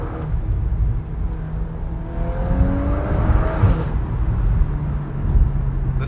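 VW Golf 8 R accelerating hard in first gear from inside the cabin, a steady loud engine drone with rising pitch sweeps as the revs climb, continuous for several seconds with no talking.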